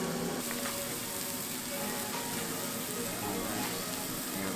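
Steady sizzling hiss of steak frying in a very hot pan, constant and close throughout, with no talking.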